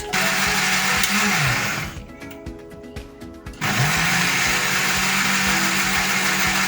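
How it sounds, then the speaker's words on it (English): Blender pureeing four garlic cloves, two ginger cloves and a quarter cup of water, a loud steady motor whine that dips for about a second and a half as the load shifts, then roars back to full speed. "then blend."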